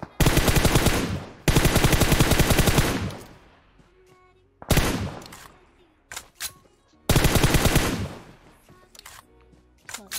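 Rapid bursts of automatic gunfire in PUBG Mobile, near and loud, in three long volleys separated by quieter gaps with scattered single shots, no talk over it.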